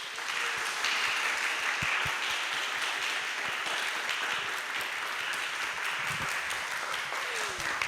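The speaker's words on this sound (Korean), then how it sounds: "여러분 큰 박수로 마타 선수를 환영해 주시기 바랍니다" A talk-show audience gathered for an esports hall of fame event claps for an arriving guest, with dense, steady applause filling the room for several seconds.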